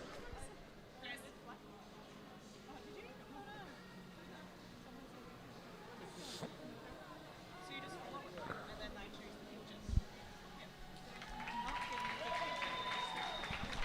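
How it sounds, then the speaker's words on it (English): Warm crowd applause swells near the end, greeting riders after a junior track cycling sprint heat at a velodrome in Adelaide, rising from a steady crowd murmur beneath continuous commentary. "So warm applause there for both riders and especially Tate Ryan"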